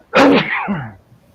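A single loud sneeze close by, a sharp burst followed by a trailing voiced exhale, then quiet.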